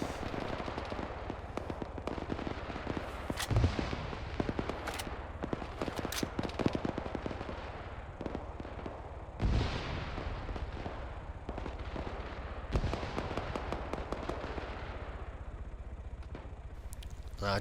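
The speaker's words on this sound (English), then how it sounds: "I hear my buddy shooting" Gunfire in ARMA 3 from a nearby teammate: repeated bursts and single heavy shots crack out across a long stretch, some loud and close, others quicker rattling volleys, with faint talk in between.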